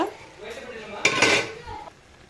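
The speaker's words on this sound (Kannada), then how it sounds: "ಈಗ ಮತ್ತೆ ಒಂದು ಪ್ಲೇಟನ್ನು ಮುಚ್ಚೋಣ" A plate set as a lid over a pan of cooking vegetable Maggi noodles gives a short ceramic-on-metal clatter and rattle in the middle of an otherwise quiet kitchen moment.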